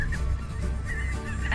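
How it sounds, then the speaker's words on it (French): Geese honking from a group hidden behind tall grass in an outdoor field, repeated short nasal calls at a moderate distance, fairly faint against a steady low background rumble. "Mais en fait, c'est des oies."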